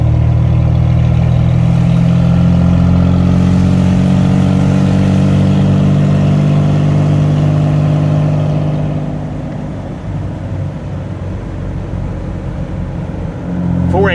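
A Mopar car fitted with a new 8 3/4 rear end, 355 gear and Sure Grip runs close and loud with a steady droning engine note that eases slightly in the second half.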